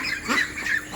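Pekin ducks on a farm give a few short nasal squawks in quick succession, close by and moderately loud.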